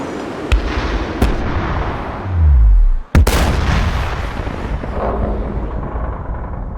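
Layered explosion effects for an animated baby dragon in a video game: sharp cracking bangs, then a deep rumble that sweeps downward and ends in a hard blast, all loud and close, with no speech.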